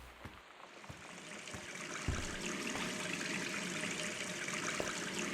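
Steady rush of water pouring from a bathtub faucet in the game Gone Home, a continuous hissing stream that grows slightly fuller after the first couple of seconds, with faint clicks at the start.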